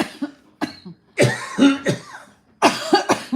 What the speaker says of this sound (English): We all got coughing over here.